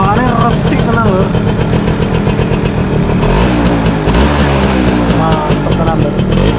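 A Yamaha F1Z motorcycle engine idles close by with a steady, even putter, while people talk over it throughout.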